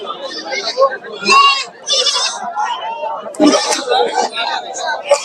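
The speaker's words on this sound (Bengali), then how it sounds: "প্রচুর ছাগল উঠেছে আজকে হাটে" Goats bleat at a busy village livestock market, with several loud, wavering cries from nearby animals, some overlapping, rising over a constant background of crowd chatter and people talking.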